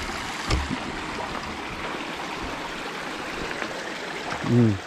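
Steady rushing of a nearby forest stream fills the clip, with a brief low knock early on and a short rumble near the end.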